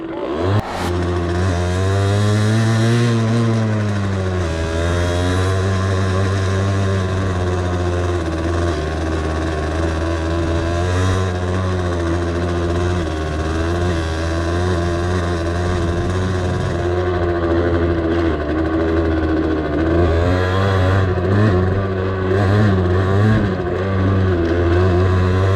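A Derbi Senda SM 50cc supermoto motorcycle rides along a dry off-road trail, its small two-stroke engine buzzing loudly and close, revving up and down continuously as it climbs and eases through gears.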